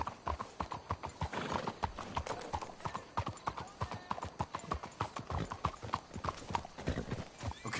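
Horses in a western-style video game clip-clop steadily along at a walking pace, hooves thudding in a close, continuous rhythm, with occasional whinnies and faint voices under the hoofbeats.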